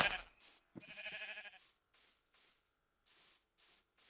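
A Minecraft sheep gives one clear, wavering bleat near the listener, framed by soft, regular scuffing steps and quiet game ambience.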